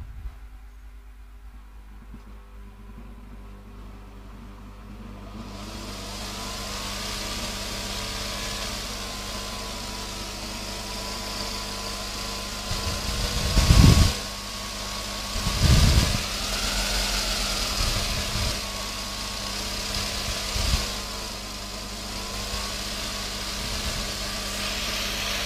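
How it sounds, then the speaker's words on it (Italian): Vibrating seed scarifier filled with silica sand switched on, a steady buzzing hum with a gritty rattling hiss that rises in and holds, with a few louder thumps partway through. "accendiamo attraverso il regolatore di tensione l'apparecchio"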